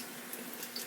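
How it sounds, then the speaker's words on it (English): Water being poured into a betta fish tank during setup, a soft, steady splashing trickle heard up close at low level, with no voices. "we're going to go ahead and pour some more water"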